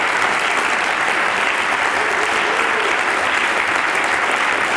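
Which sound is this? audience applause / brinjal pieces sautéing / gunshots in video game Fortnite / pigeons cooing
audience applause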